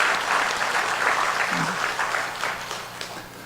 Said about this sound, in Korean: 우리 하나님 앞에 감사의 박수로 영광을 돌리겠습니다.